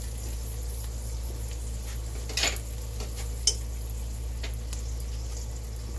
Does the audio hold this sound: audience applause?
no